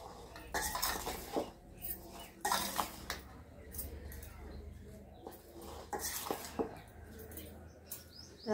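Amla pickle ingredients are mixed in a bowl with a spoon, making repeated scraping and clinking bursts against the metal, close and fairly loud, with faint background sounds throughout.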